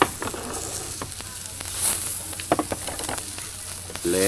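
Pork sizzling steadily in a hot pan, a constant crackling hiss with occasional pops and scraping stirs, close and fairly loud.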